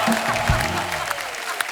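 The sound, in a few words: studio audience applause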